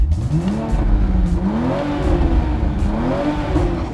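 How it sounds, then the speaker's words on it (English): A 2020 Toyota Supra's engine revs and pulls hard in sport mode, the exhaust note rising and falling in a throaty, continuous roar close by. "the engine in sport mode for rapid response and a louder exhaust noise"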